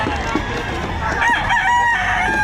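A rooster crows loudly and close by at a chicken market in Batangas, its drawn-out call carrying over a noisy background with faint clucking.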